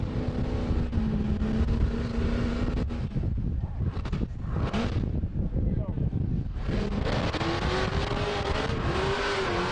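A rock bouncer off-road buggy with Holley EFI climbing a steep rock hill in two-wheel drive, its engine revving hard and roaring continuously with rising and falling pitch, heard from a distance amid wind noise while a commentator talks over it.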